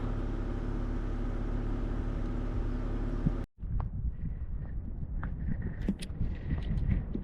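Steady low engine and road rumble inside a moving car in humid countryside, continuous and fairly loud, then a sudden brief dropout followed by quieter cabin noise with faint scattered sounds.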